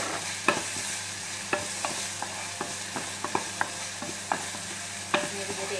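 Chopped bilimbi is stirred in a frying pan: a soft, continuous sizzle with a dozen light spoon scrapes and taps at irregular intervals, close and fairly quiet, no voices.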